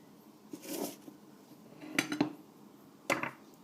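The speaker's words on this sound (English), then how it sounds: "Just slide the spatula easily underneath it like that." A metal spatula scrapes and slides under date bubble bars on a tray, giving a few soft scuffs followed by two sharper clinks, close and quiet.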